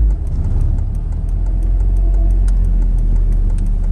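A Honda Civic with a K24 engine accelerates hard, its loud, steady engine roar filling the cabin with deep rumble. The roar holds constant through the moment, with no talk over it.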